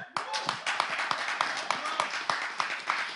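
An audience at a public gathering claps for the Togolese people, a moderate round of distinct, fairly rhythmic hand claps that carries on steadily.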